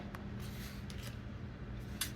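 Tarot cards being shuffled by hand, close and fairly faint, with a few brief crisp slaps and riffles as cards flick and fall out, no talking over it.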